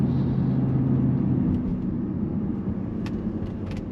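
A Range Rover Sport SUV accelerating up a hill on a twisty road, heard from inside as a steady low engine rumble and road noise that eases slightly, with a few faint clicks near the end.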